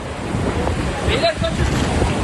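Sea waves surge ashore in a coastal bay in Izmir during an earthquake-driven tsunami, a continuous loud wash of churning water and wind rumble with no pause across the short stretch.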